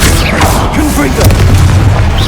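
In Hogwarts Legacy, a fiery Confringo spell blast lands with a loud, booming burst and rumbling low impacts amid the game's sound effects, while a voice speaks over the action.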